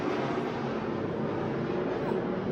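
A large airplane flying overhead produces a loud, steady, broadband roar that fills the whole stretch without letting up.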